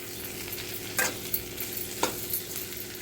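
Bitter gourd pieces frying in a pan, with a steady sizzle throughout and two or three louder scrapes of a spatula stirring them.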